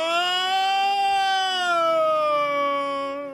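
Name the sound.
voice imitating a siren-like scream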